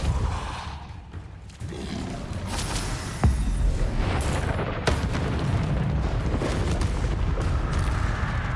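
A Depulso spell cast in the Hogwarts Legacy video game bursts out as a sharp boom near the middle, then trails into a loud, continuous rumbling blast of game effects and ambience.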